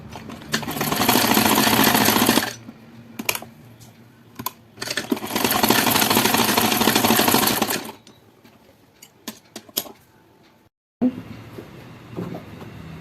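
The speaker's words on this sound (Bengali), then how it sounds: "এক ইঞ্চি সেলাই করছি" A sewing machine stitches a blouse in two long, loud runs of rapid mechanical whirring. Between the runs come clicks and handling knocks, and a brief silence falls near the end before a softer hum resumes.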